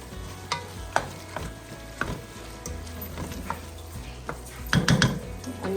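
Flour is stirred into a ground beef ragu sauce in a pan, bringing soft sizzling under intermittent scrapes and clinks of a utensil against the pan, a few sharper knocks near the end.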